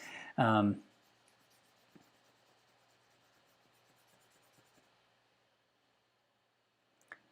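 Pencil drawing feet on paper: a faint, steady scratching of graphite across the sheet runs for several seconds after a brief spoken word at the start, ending with a soft tap.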